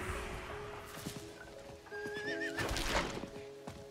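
A game horse neighs and whinnies loudly amid clip-clopping hooves and other in-game effects, with a long rising whinny in the middle of a busy soundscape.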